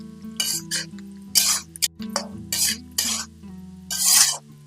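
Onions for kande pohe frying in a pan, with steady sizzling beneath repeated scraping stirs in bursts, and a tonal hum running underneath throughout.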